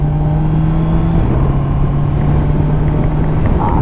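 A Honda CBR650R motorcycle under way with its quick shifter, a steady loud engine drone whose pitch dips briefly partway through as a gear changes, with wind rush throughout.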